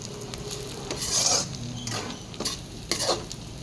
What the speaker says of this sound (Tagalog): Niluluto, niluluto. Amoy pa lang, iulam na. Hinahalo, hinahalo.